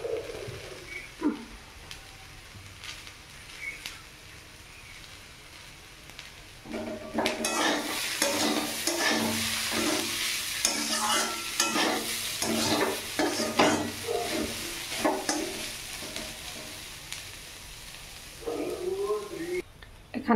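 Bottle gourd peels frying with chopped onion in a pan: a quiet stretch, then a loud sustained sizzle with busy, repeated spatula stirring and scraping, close up, easing off toward the end.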